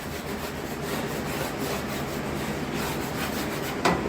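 Wax is rubbed onto a hand saw blade in a woodworking shop, producing a steady, close scraping rub with rhythmic strokes and a brief sharper knock near the end, no talking.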